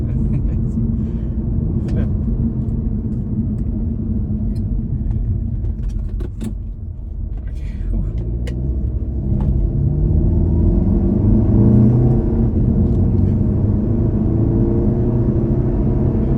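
Audi A3 fitted with an S3 engine accelerating hard under turbo boost, a steady loud engine drone that rises in pitch through the gears, heard from inside the car with talk over it.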